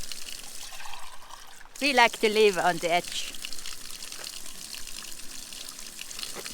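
Cold spring water pours and trickles as van water tanks are filled, a steady splashing flow with someone speaking briefly over it and a burst of louder gushing partway through.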